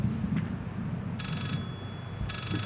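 An old telephone rings in the horror video game Layers of Fear, two electronic trilling bursts separated by a pause, heard faintly over a low droning ambient background.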